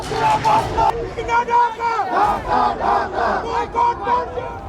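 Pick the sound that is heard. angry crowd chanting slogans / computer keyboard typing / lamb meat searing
angry crowd chanting slogans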